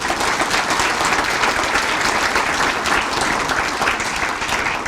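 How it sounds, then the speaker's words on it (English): Audience applause fills a room at a chamber of commerce awards celebration, steady and dense clapping from a large crowd, loud and continuous throughout with no break. "If we could give them all a round of applause."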